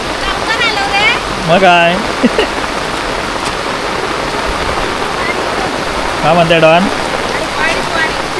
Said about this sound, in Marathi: पावसाला जोर वाढला आहे